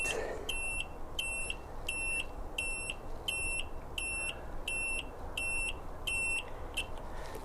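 A Yamaha XJ900S turn signal bleeper gives a steady, regular electronic beeping, about one beep per second, sharp and high-pitched over a low background hum, repeating evenly without any talking.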